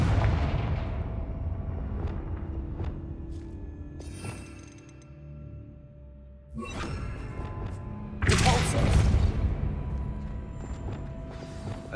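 Confringo fire blast spell cast in the Hogwarts Legacy video game, a loud booming explosive burst with crackling, shattering debris amid dense game rumble and effects.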